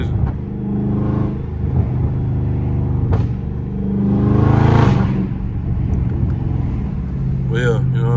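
A supercharged 550 hp Dodge Scat Pack engine on a night drive gives a rumbling in-car drone that swells into a louder surge, with a gear-change dip. Someone talks over it.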